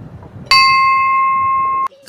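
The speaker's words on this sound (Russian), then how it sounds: "Ощутить звон колоколов можно не только в храмах." A single clear strike of a Russian bell at an exhibition of old and new cast bells, ringing with a bright sustained tone for over a second before it is abruptly cut off.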